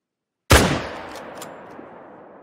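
A crossbow fires at a razorback in theHunter: Call of the Wild: one sudden, sharp, loud crack after a brief silence, then a long, fading reverberant tail with a few faint knocks.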